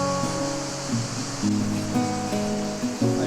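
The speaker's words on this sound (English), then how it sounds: "I can hear the water already." Osumi River water rushing along the bottom of a canyon in Tomorr National Park, Albania, swollen and grey after rain: a steady, loud broadband roar of flowing water, with faint tonal sounds layered over it and no speech.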